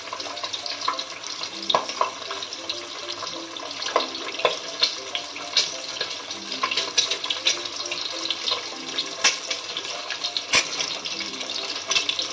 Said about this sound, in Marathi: अंडे फ्राय करत असताना मीडियम फ्लेमवरती चांगले फ्राय करून घेऊया